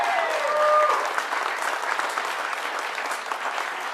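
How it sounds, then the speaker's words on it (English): A crowd at an international fruitcake eating contest applauds the competitors, a broad, sustained wash of clapping that holds steady throughout. "How about a round of applause for our competitors up here?"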